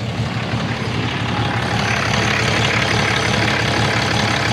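A 2015 RAM pickup's 6.7L Cummins diesel engine idling close by, a steady dense rumble with a faint rattle, continuous and loud with no talking.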